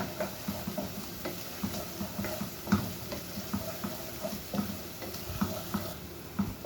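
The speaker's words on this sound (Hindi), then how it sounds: "2 मिनट फ्राई करने के बाद हम इसमें ऐड कर देंगे 1 टेबल स्पून ज़ीरा, और इसमें हम 30 सेकेंड के लिए फ्राई करेंगे।" A tablespoon of cumin seeds fries in a pan for dhaba-style daal mash, giving a soft continuous sizzle dotted with small rhythmic pops and ticks, close and moderately quiet.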